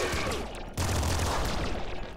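Grenade shotgun firing in the video game Nuclear Throne, a dense barrage of loud blasts and booms that runs continuously through the clip with a brief dip partway in.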